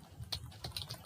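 Fast keystrokes on a computer keyboard as C code is typed, a quick run of distinct clicks at close range with no voices.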